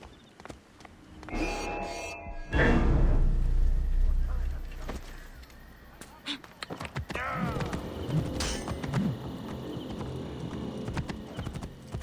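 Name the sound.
horse galloping in a video game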